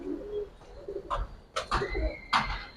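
A Giribaz pigeon coos close by, several soft throaty coo phrases in uneven bursts with short pauses between, heard alone without talking.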